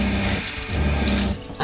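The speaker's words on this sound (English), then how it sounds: "let's listen for the water pump right now." Water running from a tap in an RV, with the onboard water pump humming underneath; a steady close rushing flow with a low motor drone that briefly dips before ending.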